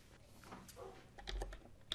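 Quiet, close keystrokes on a computer keyboard tap out a command in an irregular patter of soft clicks, with a few slightly sharper presses near the end.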